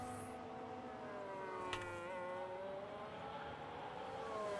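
Onboard race car engine in an iRacing sim race at Bahrain, a steady high-pitched drone with rising and falling harmonics as the car runs at moderate pace, plus a brief sharp blip near the middle.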